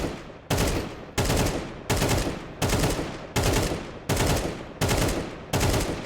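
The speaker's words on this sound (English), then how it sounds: "stand in the open and move left and right and keep shooting him" Repeated bursts of automatic rifle fire from Counter-Strike 2 as a player shoots at a bot, eight loud, evenly spaced volleys each cut off abruptly, close and dominating with no talk.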